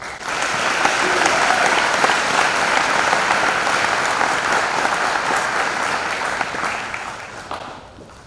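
An audience at a lecture breaks into sustained, full applause welcoming the speaker, a dense, even wash of clapping that holds for several seconds before slowly thinning out.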